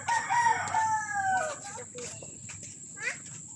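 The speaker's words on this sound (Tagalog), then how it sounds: "May manok pala siya." A rooster crows once nearby in Gutad, Floridablanca, Philippines, a long rising and falling call, followed by softer clucks and scattered bird sounds over low background noise.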